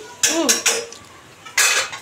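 Biryani is stirred in a metal cooking pot, with a few sharp scraping clinks of a utensil against the pot separated by short pauses.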